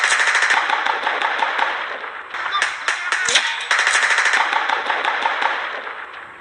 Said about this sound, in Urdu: پھر کیا تھا ہر طرف سے فائرنگ کی آوازیں آنا شروع ہو گئی۔